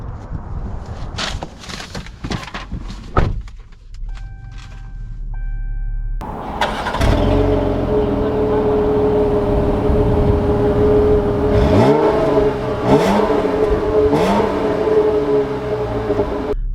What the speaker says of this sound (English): Let's take this Cherokee out and see how it drives.